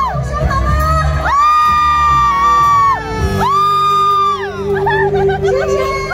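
Loud crowd cheering at an outdoor temple stage show in Tainan, long piercing whoops and shouts sustained in two big surges over a dense roar of voices.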